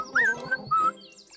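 Cartoon Tick-Tick Bird chirps a few bright, close tweets in a quick bouncy pattern, then fades into quieter faint trills.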